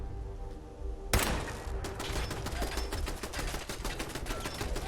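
Automated turrets in Fallout 4 firing in rapid bursts, a dense stream of sharp gunshots after a loud opening blast, with no talk over it.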